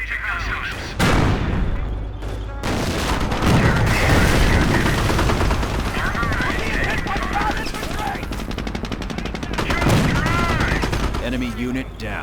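Gunfire from the World War II strategy game Company of Heroes: dense machine-gun bursts and rifle shots overlap in a loud, continuous barrage, with occasional booms and shouted soldier voices over the battle.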